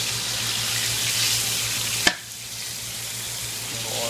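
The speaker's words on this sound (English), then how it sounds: "A little oil pop." Chicken sautéing in oil in a pan, a steady close sizzle with one sharp pop of oil midway, then a softer crackle continuing.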